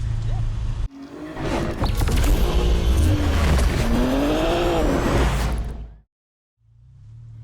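A Mazda Miata NC MX-5 roars hard down backroads during a club cruise, the engine revving up and down through gears loudly and close before cutting off abruptly, then a quieter rumble returning.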